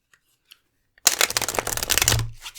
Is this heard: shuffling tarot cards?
yes